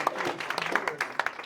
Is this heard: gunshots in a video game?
no